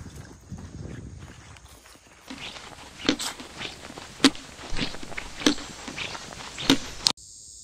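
Footsteps crunch over a forest floor scattered with pine needles and pine cones, a series of soft, uneven steps close by, some landing with sharper crackles.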